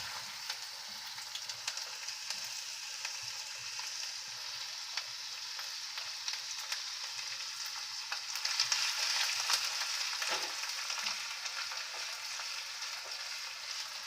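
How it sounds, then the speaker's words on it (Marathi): Ginger and garlic sizzle in hot oil in a kadhai on a gas stove, a steady, fairly soft hiss that swells briefly partway through, with no one talking. "तेल आपलं आता तापलंय. आपण अद्रक आणि लसूण टाकून घ्यायचे."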